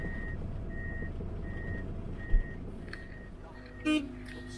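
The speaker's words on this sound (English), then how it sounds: "Just put the warning beacon on so people can hear that we're coming." Steady, evenly spaced warning beacon beeps sound over the low rumble of a PistenBully trail grooming machine's heavy engine, with a few clanks and a brief hiss of machinery.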